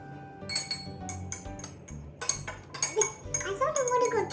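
A metal spoon clinks repeatedly against a glass while turmeric water is stirred, with quick irregular taps at close range and a voice speaking over parts of it.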